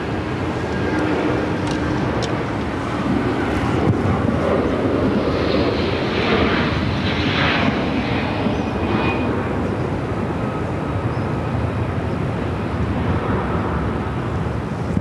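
A Dodgers charter jet bound for Tokyo Haneda takes off from runway 8 at Phoenix Sky Harbor, its engines roaring loudly and steadily throughout, with a brief rising whine in the middle of the sustained rumble.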